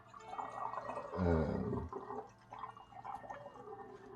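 Liquid from a ferment is poured through muslin folded in four, a short gurgling, splashing burst that swells for under a second, then thins to soft trickling and drips.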